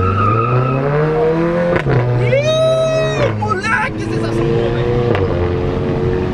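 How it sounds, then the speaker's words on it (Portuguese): A car engine revs hard with rising and falling pitch, its steady drone broken by sharp bursts of revving. Nearby people talk and shout over the engine throughout. "Dá só uma acelerada aí"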